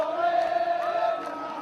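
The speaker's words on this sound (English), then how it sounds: "There was nothing to stop the rush to the Pearl Roundabout, and the crowd began celebrating." Crowd of protesters celebrating at the Pearl Roundabout, a dense sustained roar of many voices with shouts and whoops layered together, steady and loud throughout.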